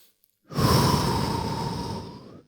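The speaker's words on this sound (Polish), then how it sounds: "jeden długi oddech tutaj" A single long, slow exhale, close and breathy, fading gently over about two seconds after a moment of quiet.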